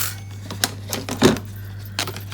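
A card cutting machine works through paper, its tension nearly worn out, giving a few sparse, sharp clicks and ticks with one louder mechanical clunk in the middle, heard close and alone.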